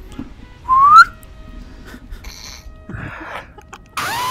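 A short rising whistle rings out clearly, followed by quiet rustling and a few soft clicks and scrapes.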